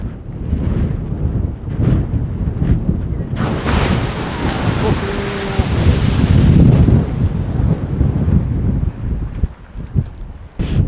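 A geyser erupts in Iceland: a steady, roaring rush of water and spray builds loudly over gusty wind buffeting the microphone, sustained for several seconds.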